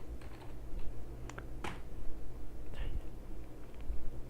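Scattered soft keystrokes on a computer keyboard, a few clicks in short bursts over a low steady hum, faint and close with no one speaking.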